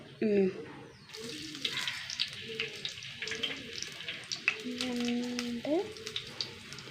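Small pieces of ginger frying in hot oil, a steady sizzle running under someone speaking, with occasional utensil clinks and stirring noises.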